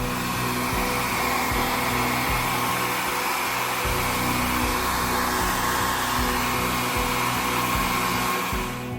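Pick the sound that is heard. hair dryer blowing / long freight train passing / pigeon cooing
hair dryer blowing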